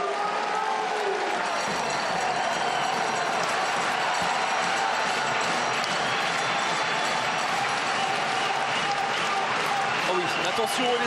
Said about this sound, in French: les applaudissements de Jean-François Krakowski